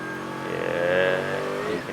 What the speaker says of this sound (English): the wheel spin's now coming back, coming out of turn 7